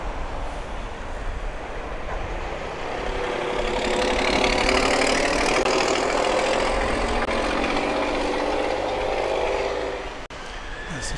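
An airliner's engines at Grand Cayman airport roar steadily as a broad rushing drone that swells around four seconds, holds, then eases off near the end, with no talk over it.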